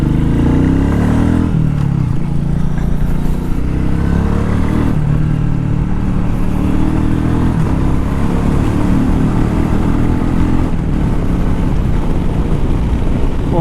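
A Royal Enfield Meteor 350 being ridden, its steady loud engine drone and road rumble continuous throughout with slight shifts in pitch as it cruises.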